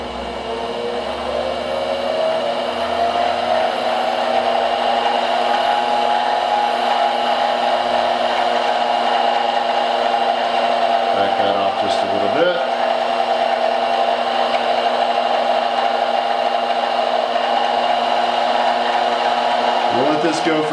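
A G0704 milling machine runs in reverse at 600 RPM during break-in, giving a loud, steady motor whine that holds throughout, with brief mechanical disturbances partway through and near the end.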